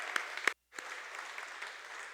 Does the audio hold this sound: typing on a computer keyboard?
no